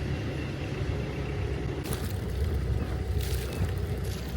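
Boat engines drone steadily with a low, throbbing rumble, rising slightly in intensity partway through, continuous and close.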